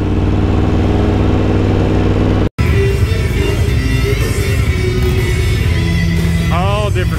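Motorcycle engines idle and rev in a crowded outdoor gathering of assorted bikes at Daytona Bike Week, at Daytona International Speedway, a steady loud engine rumble running throughout with voices mixed in.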